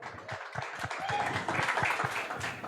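Audience applause greets a guest named Chandni at a comedy talk show, a steady wash of many hands clapping that lasts throughout, fairly close and continuous.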